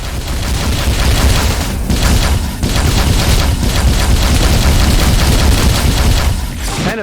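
Dense, continuous automatic gunfire with booming impacts in a sci-fi VR shooter, loud and close, sustained bursts with only brief dips over several seconds.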